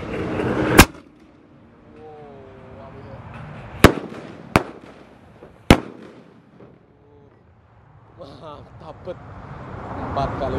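A small roman candle firework fires several sharp, loud pops in irregular succession, each a crisp crack with brief decay, while voices talk faintly between the shots.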